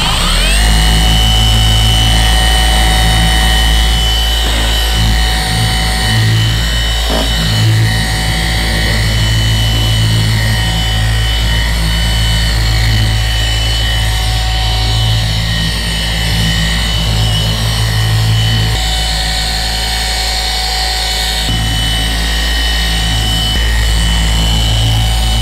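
A machine polisher fitted with a heavy cutting pad runs across vehicle paint at about 3,300 speed. It makes a loud, continuous motor drone with low rumbling pulses that shift as pressure changes.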